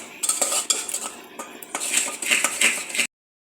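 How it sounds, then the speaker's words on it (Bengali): A spoon scrapes and clatters against a metal pan as salted spice masala is stir-fried for a chicken curry. The clinks are close and busy, with a light sizzle underneath, and the sound stops abruptly. "পরিমাণ মতো লবণ দিয়ে দেবো মশলাটাকে আমি কষিয়ে নেব"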